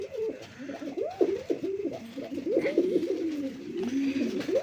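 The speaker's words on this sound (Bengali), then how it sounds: "বন্ধুরা এখানে এক জোড়া মশালদম কবুতর আছে" Moshaldom pigeons, a pair, give a continuous stream of soft rolling coos and warbling calls at close range, with no talk and a light background hum.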